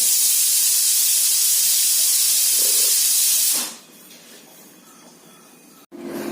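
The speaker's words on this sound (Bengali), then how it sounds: "প্রেশার কুকারে ঢাকনা খুলে দিয়েছি" A pressure cooker on a gas stove lets out a loud, sustained jet of steam as its lid is opened, then the hiss abruptly drops to a quieter, fading rush before a short clatter at the end.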